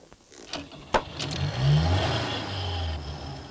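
A car engine cranks and catches after a couple of sharp clicks, then revs up and settles into a steady mid-pitched idle, close by, with no talk.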